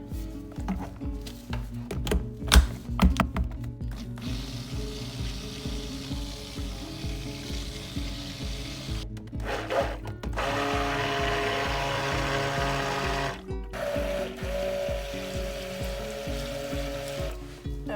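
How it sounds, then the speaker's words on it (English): Pink soap batter for a sea salt and lime gemstone soap is blended in a large bowl: a steady whirring motor drones in stretches, with brief stops and restarts, then runs loudly and continuously near the end. "So let's blend up this pink first and see what it looks like."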